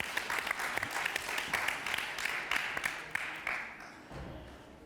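Audience applause at an inclusive-development economics panel, dense steady clapping that swells and then tapers off near the end, with no voices.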